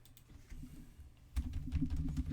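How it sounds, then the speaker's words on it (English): Keys on a computer keyboard clack softly in an irregular patter, quiet at first and then denser and closer, in a room with faint background noise and no talk. "Are you actually typing in Fred Flintstone, Barney Rubble?"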